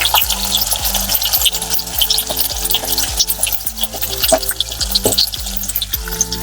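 Chopped onion, tomato, green chilli and curry leaves for egg podimas hit a hot pan, a busy crackling sizzle with rhythmic clanks of a spoon stirring against the metal, no talk.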